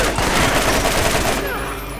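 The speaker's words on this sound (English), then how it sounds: "I gave you a pretty good level 4 machine gun." Rapid automatic gunfire from a level 4 machine gun in the Borderlands video game, a dense continuous burst of loud shots lasting about a second and a half before tapering off.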